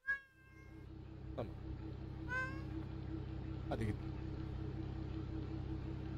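A cat meows several times, with short, close cries scattered over a steady low rumble that sounds like a computer game playing in the background.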